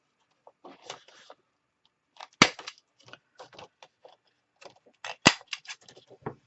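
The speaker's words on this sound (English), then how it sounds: "I'm going to go ahead and corner round all 4 of these" A corner rounder punching the corners of paper file folders: two sharp, loud snapping punches stand out amid soft paper rustling and handling noises in a quiet room.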